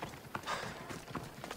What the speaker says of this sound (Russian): И конь бежит сразу.